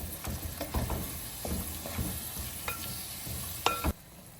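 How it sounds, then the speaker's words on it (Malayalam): Tomatoes stirred into leftover masala in a pan for a Malabar stuffed chicken dish, giving a soft sizzle with scraping spoon strokes and a few sharp clicks against the pan, close and quiet. "ഈ ബാക്കി മസാലയിലേക്ക് തക്കാളിയും കൂടെ ചേർത്ത് കൊടുക്കാം എന്നിട്ട് നന്നായിട്ട് വഴറ്റിയെടുക്കണം"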